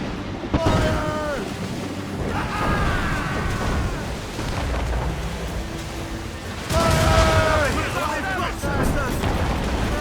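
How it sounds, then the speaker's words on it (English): An enemy ship fires a cannon volley in Assassin's Creed Rogue: loud booming blasts go off at the start and again near seven seconds over rushing sea and wind, while voices shout throughout. "They're firing a volley!"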